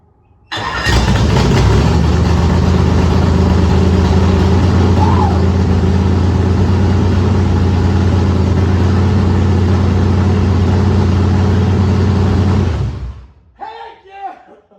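A factory stock race car engine cranks, catches and settles into a loud, steady, rumbling idle that runs for about twelve seconds, then cuts off as a voice speaks briefly afterward.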